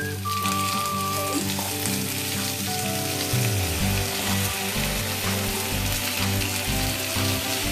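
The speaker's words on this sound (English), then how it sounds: "Okay, so now in goes the prawns." Prawns, marinated in turmeric, lemon and salt, sizzle and fry steadily in a hot pan for biryani, a loud continuous crackle with music playing underneath throughout.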